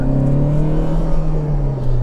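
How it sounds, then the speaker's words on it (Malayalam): A Tata Harrier's 2-litre diesel engine revving in sport mode on the road, heard from inside as a steady, loud droning hum that holds one pitch with a slight rise and dip, no talking. "ഇപ്പോൾ എഞ്ചിൻ സൗണ്ട് ഓഡിബിൾ ആണ്, പക്ഷേ 2 ലിറ്റർ എഞ്ചിൻ എന്നുള്ള നിലയ്ക്ക്"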